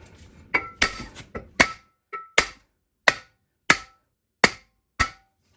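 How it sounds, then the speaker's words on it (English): A hammer whacking the brake rotor on a 2016 Subaru Crosstrek, about a dozen sharp metallic strikes with ringing tails, quick at first and then spaced roughly every half second, close and loud. "I'm going to whack this a few times and see if we can get it off."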